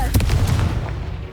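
Confringo fire spell explosion in Hogwarts Legacy, a sharp booming blast with a quick crackling burst that rolls off into a short rumbling tail, close and loud.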